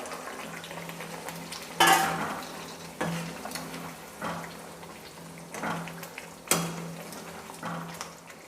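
Goat meat stirred and fried in a pan, a continuous sizzle broken by several sharp spoon scrapes and knocks against the metal at irregular intervals, close and fairly loud.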